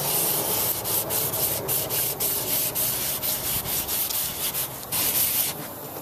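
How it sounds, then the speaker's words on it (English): An oxidized Ford Crown Victoria headlight being sanded by hand with 180-grit sandpaper, a loud, close, continuous scratchy rubbing in rapid back-and-forth strokes with no voices. "So I'm basically going to sand this with the 180 and then hit it again with the 400."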